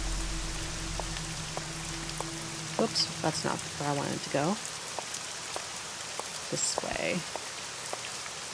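Rain in the Nancy Drew: Legend of the Crystal Skull game, a soft, constant patter in the background beneath a person speaking, with a low hum that fades early on.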